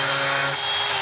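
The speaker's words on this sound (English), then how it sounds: "Locking nut." A locking nut is fitted and tightened onto a bolt with damaged thread on a DIY kayak cart, producing a loud, continuous grinding, rasping tool noise up close, with no talk.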